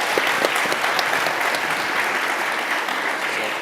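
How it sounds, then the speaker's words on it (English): Steady, dense applause from an audience at a cybersecurity competencies panel, sustained and fairly loud throughout with no pause. "now we can applaud our"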